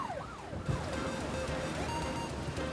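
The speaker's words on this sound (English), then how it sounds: "You can hear and see police sirens like lighting up outside the" Wailing police sirens sweep up and down continuously, fairly loud and steady with traffic rumble beneath, no voices.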